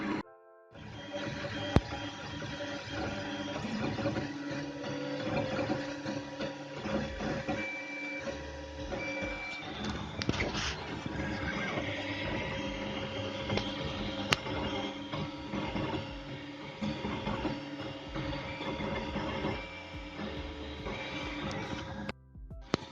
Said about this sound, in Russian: Итак, принтер только что закончил свою работу.